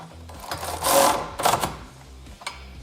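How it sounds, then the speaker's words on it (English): A hand ratchet tightens the bumper bracket bolts on a Kawasaki Teryx KRX front bumper install, giving rapid clicking bursts close by with brief pauses between them. "Then we'll tighten the bolts that go from the bracket to the bumper."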